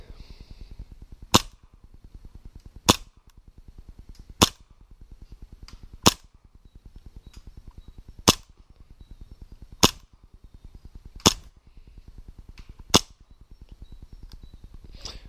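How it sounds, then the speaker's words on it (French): Nine sharp shots from a Tokyo Marui Hi-Capa 5.1 Stainless airsoft pistol fired at 60 metres, at regular intervals of about a second and a half, each a crisp crack over a low constant hum. "nous retrouvons pour le test de tir à 60 mètres"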